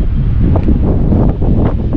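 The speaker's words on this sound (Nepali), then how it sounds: "यो चिसो हावा" Cold wind buffets the microphone in a loud, continuous low rumble that swells and dips slightly, with no talking.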